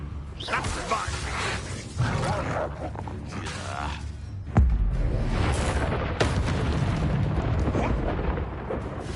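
An Expelliarmus spell goes off in the Hogwarts Legacy game with a sudden heavy boom and crackling blast amid a roaring fight, while voices talk and shout over the clash.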